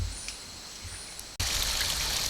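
Fresh mountain stream water trickling along a forest trail at a nature centre, a steady close wash that swells noticeably louder partway through, with faint bird calls above it.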